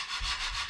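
Steady abrasive sanding on a wooden boat with an Abranet sanding disc, a continuous gritty hiss with a slight pulsing rhythm as the disc sweeps back and forth, close up.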